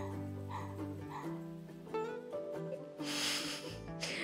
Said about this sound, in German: Mein Hund träumt immer so laut.